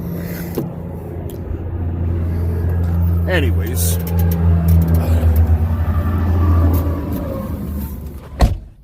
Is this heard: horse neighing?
no